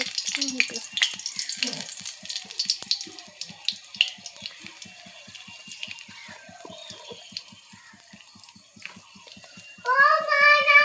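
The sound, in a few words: frying dried chili and bay leaf for khichuri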